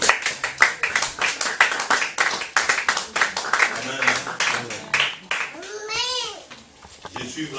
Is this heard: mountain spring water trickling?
no